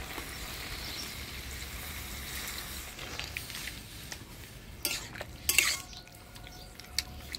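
Eggplant and mixed vegetables are stirred in a cooking pan, with soft scraping and a low sizzle followed by a few louder clinks and scrapes of the utensil against the pan.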